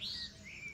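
Black drongo giving a short bird call outdoors near a village, two clear high chirping notes over faint background hum, moderately distant.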